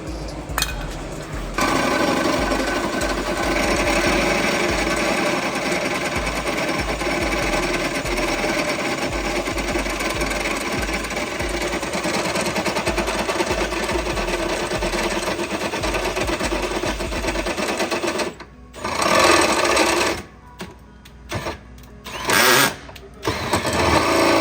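A drill bores out a transmission mount on an AWD Hellcat Chrysler 300, a loud continuous whining drone that runs for most of the clip, then stops and restarts in short bursts near the end.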